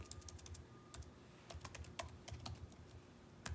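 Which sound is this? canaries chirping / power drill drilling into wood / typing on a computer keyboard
typing on a computer keyboard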